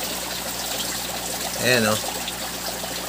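Water being siphoned out of a dirty crayfish aquarium trickles and hisses steadily throughout, with a short voice speaking briefly in the middle.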